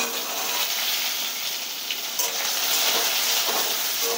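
Panch phoron and dried red chilli frying in hot mustard oil in a kadai, giving a steady, close sizzle with bright crackling spatter throughout.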